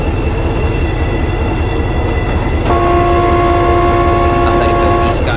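Train horn in the video game Train Simulator 2021, a steady multi-tone blast sounding partway through over the continuous loud rumble and rattle of the moving train.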